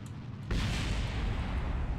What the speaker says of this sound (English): Woo! Explosion.